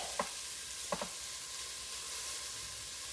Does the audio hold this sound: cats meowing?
no